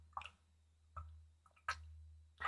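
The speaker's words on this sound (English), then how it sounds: "Always have a squeezy bottle of water." Water squirts from a squeezy plastic bottle in a few short, soft wet squishes and drips, spaced irregularly over a faint low hum in a quiet room.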